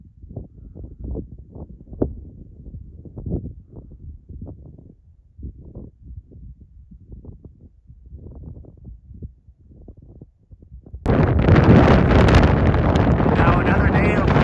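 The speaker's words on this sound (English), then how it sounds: "Now another day of walking into a 30-mile-per-hour wind." Strong wind of about 30 miles per hour roars against the microphone on an open trail in the Sierra Madre, a loud sustained blast that suddenly swells and dominates after quieter gusty buffeting mixed with a voice.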